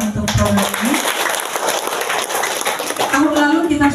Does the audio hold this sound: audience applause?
yes